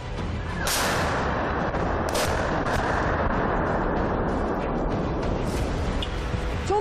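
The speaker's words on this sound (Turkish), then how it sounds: "İnsani koridorda tam da ekibimizin yanı başına düştü bomba." Loud bomb blasts burst out in a humanitarian corridor during the Russia-Ukraine war, over a constant roaring din, with several sharp explosive hits spaced a few seconds apart.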